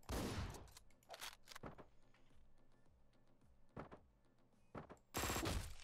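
Gunshots in the video game Hotline Miami 2 come in a few sharp, loud bursts, one near the start and another near the end, separated by quieter stretches of game background.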